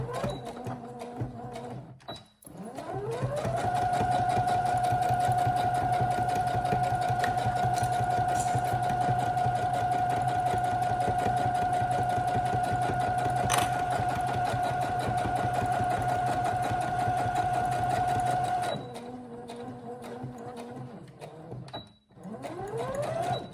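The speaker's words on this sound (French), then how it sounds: "Ensuite, je couds la partie dos. Donc, point avant, point arrière." A sewing machine stitches the back panel of a fabric shoulder bag with a zippered pocket, sewing forward and then in reverse; one steady, close, continuous whir runs about sixteen seconds between quiet handling at start and end.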